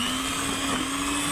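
An electric hand mixer whirs steadily as it beats butter with a little oil for a mango cake batter, a constant close motor whine with no breaks.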